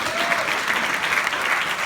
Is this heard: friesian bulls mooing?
no